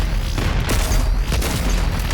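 Sticky bombs go off in Doom Eternal, a dense run of loud, booming explosions and rumbling blasts filling the whole short stretch.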